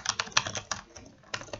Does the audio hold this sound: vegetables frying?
no